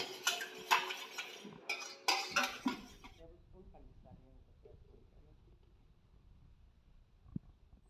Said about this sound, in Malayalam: ഇതിലേക്ക് ഞാൻ 1/2 ലിറ്റർ പാലെടുത്ത് വെച്ചിട്ടുണ്ട്, അത് ഒഴിച്ചു കൊടുക്കാം. നന്നായിട്ട് ഇളക്കി മിക്സ് ചെയ്തെടുക്കാം.